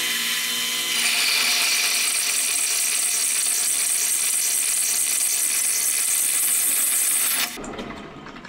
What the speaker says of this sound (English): So now we're gonna cut our bolt. We're gonna cut it just past the head here.